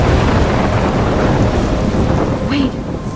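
A thunderstorm with heavy rain in the video game Life is Strange: steady, loud rainfall roars throughout with rumbling thunder underneath, a brief tonal game sound near the end.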